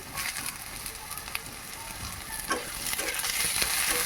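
Chopped capsicum frying in a pan for a restaurant-style egg chilli, with a steady sizzle and occasional soft stirring scrapes, close and moderately quiet, no voices.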